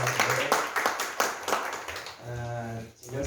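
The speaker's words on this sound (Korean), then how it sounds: "박수 한번 하겠습니다." A church congregation claps in a short, uneven burst of hand claps, fairly near, fading after a couple of seconds into a low sustained tone with some voices.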